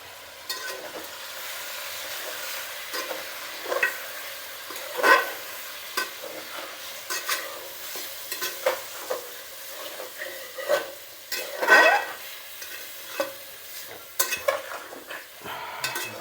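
Mutton frying in a pot with salt and turmeric, cooked desi style, a soft steady sizzle broken by repeated scraping stirs and occasional utensil knocks against the pot, close by with no talk.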